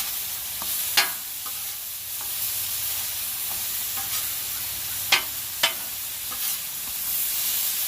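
Burger patties fry in a hot pan with a steady close sizzle and a few sharp scraping clacks from a spatula as they are flipped, with no voices.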